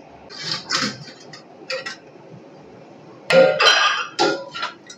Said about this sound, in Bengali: কেকের ঢাকনাটা আমি একটু তুলে দেখে নিচ্ছি।